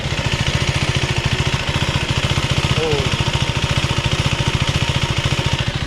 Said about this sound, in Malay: Ini bunyi punya idling.